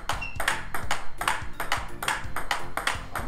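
A table tennis ball is struck repeatedly with a DHS Hurricane King 3 racket, bright close pings in a quick steady rally rhythm of about three hits per second.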